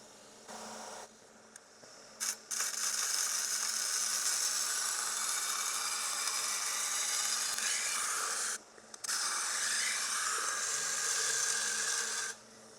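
A cheap kitchen knife is ground at 18 degrees on a Trizact abrasive belt, making a steady, close rasping hiss in two long passes separated by brief pauses.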